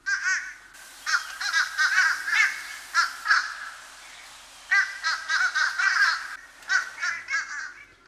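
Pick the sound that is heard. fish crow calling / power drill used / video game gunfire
fish crow calling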